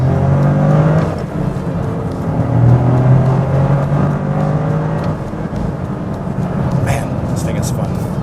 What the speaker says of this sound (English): I love the engine noise. It's not too much. You hear the turbos.